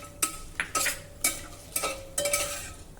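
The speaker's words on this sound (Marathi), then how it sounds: "आता हे काजू जरा हलक्या तांबूस रंगाचे होईपर्यंत आपण तुपामध्ये परतून घेऊया।" Cashew pieces frying in ghee are stirred with a metal utensil, giving several distinct scraping clinks against the pan at an irregular rhythm over a faint sizzle, close and moderately loud.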